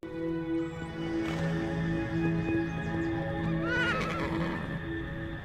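A horse neighs in a loud, wavering whinny near the end, with quieter snorts and stirring earlier, all over a steady background of music.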